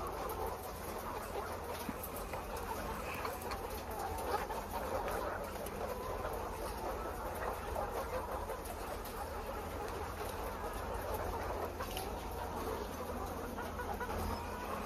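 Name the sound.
chickens clucking in poultry shed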